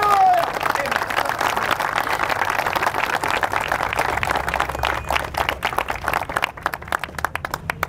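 A church congregation applauding in praise of Jesus Christ, sustained dense clapping from a large crowd that thins into scattered claps toward the end, with voices mixed in.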